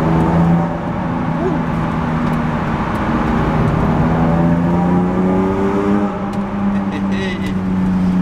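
A BMW M3 E46 Touring with a ProWeld exhaust line drones loudly from the cabin while cruising, a steady engine hum with rising and falling pitch and a brief lift off the throttle.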